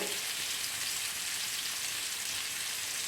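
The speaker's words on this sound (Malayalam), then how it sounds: "വെളിച്ചെണ്ണയിലാണ് നമ്മൾ ഫ്രൈ ചെയ്തെടുക്കുന്നത് കേട്ടോ. ഡീപ് ഫ്രൈ അല്ല ചെയ്യുന്നത്, ഒരു ഷാലോ ഫ്രൈ ആണ് ചെയ്യുന്നത്." Pieces of chicken shallow-fry in coconut oil in a pan, giving a steady, even sizzle that crackles softly and continuously with no other sound over it.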